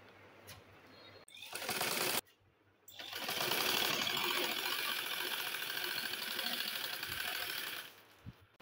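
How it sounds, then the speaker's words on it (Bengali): An electric sewing machine stitches kurti fabric up close in two steady runs, a short burst followed by a pause and then a long, even whirring run before it stops. "এভাবে আমি পুরোটা কাপড় লাভারের ঘর সেলাই করে নিব।"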